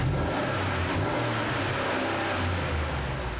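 The 6.2-liter engine of a 2016 Cadillac Escalade revs while parked, giving a steady, fairly quiet mid-pitched roar from close by, with no talk over it.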